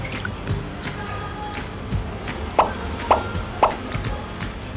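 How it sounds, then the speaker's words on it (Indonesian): A McFish kedondong soda drink with syrup at the bottom is stirred, giving a few soft plopping, sloshing knocks in the cup against a busy restaurant background. "Jadi kalian harus aduk dulu."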